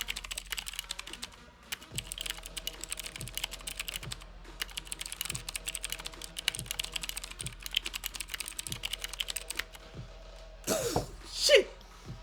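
Someone types steadily on a computer keyboard with a heavy spacebar, producing a close, brisk run of clicks and thumps, followed near the end by a cough and a voice.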